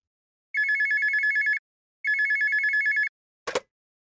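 A telephone rings with two long electronic trills separated by a short pause, loud and close, then a brief click as if the line is picked up or the receiver moves. No one speaks.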